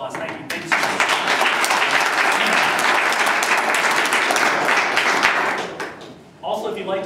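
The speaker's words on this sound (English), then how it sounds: "I'd like another round of applause" A room of attendees at a candidate forum claps in a loud, sustained round of applause that fades out near the end before a voice briefly speaks.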